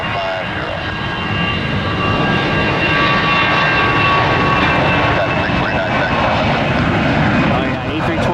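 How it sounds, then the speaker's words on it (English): An Airbus A320 jet at the airport, empty and light, gives off a loud, steady engine roar with a whining tone, close and continuous, while a voice speaks over it. "A320 rocket ship today. Nobody on board. Nice and light."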